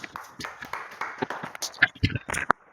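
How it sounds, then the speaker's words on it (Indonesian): Classroom pupils in a lesson clap their hands in a short, uneven burst of sharp claps that comes after a teacher's talk and runs alongside it. "Tepuk tangan."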